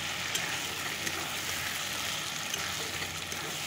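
Steady sizzle of potatoes frying in a pan with chicken, a continuous crackling hiss at even loudness throughout, close up and without voices.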